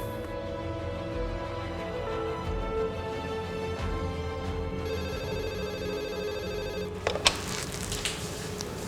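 A telephone ringback tone purrs steadily in repeated rings on an outgoing call, heard alone with no talking until a brief click near the end.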